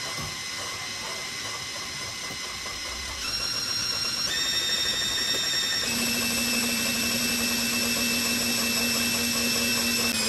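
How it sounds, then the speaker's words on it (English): A power drill winding wire onto a bar whirs continuously, its motor pitch stepping up a couple of times as it keeps running steadily. "then you turn on the drill and start rapping"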